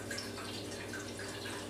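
Unsweetened, unflavored almond milk pours steadily into a pot, a continuous soft liquid trickle and splash lasting a couple of seconds, close and fairly quiet with no talking.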